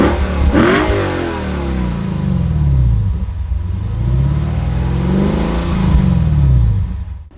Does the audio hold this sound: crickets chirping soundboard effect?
no